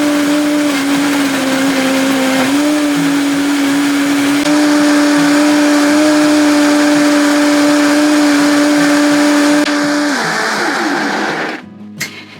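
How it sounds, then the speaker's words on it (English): A Vitamix blender whirs steadily through a green smoothie, a loud sustained motor drone with slight pitch shifts that cuts off near the end. "So then I just pop the lid on and blend the crap out of it."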